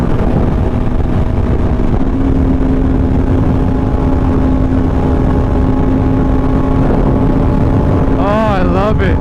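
Yamaha R1M motorcycle fitted with an SC Project exhaust, riding along out on the road, a loud steady engine drone buffeted by wind noise. A short rising rev or whine comes near the end.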